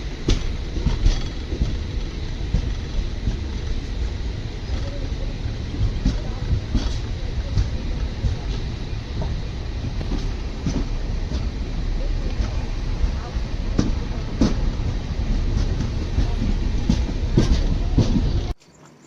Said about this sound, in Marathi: रत्नागिरीवरून आता ट्रेन निघाली आहे बघू शकता इकडे